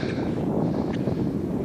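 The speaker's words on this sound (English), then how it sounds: "So it's pretty windy" Steady wind buffets the microphone outdoors during classic-style cross-country ski training on a 20 km distance, a constant broadband rush with no talk.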